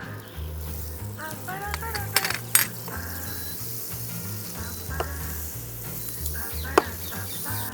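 Butter with a little olive oil sizzling in a pan ahead of mashed potato, a steady close fry with a few sharp clinks of a utensil against the pan.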